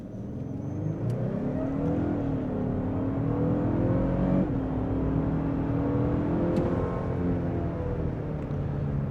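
From inside a 2026 Lexus LX 700h hybrid SUV, the engine revs up under full throttle, a smooth rising whir and roar building steadily over several seconds.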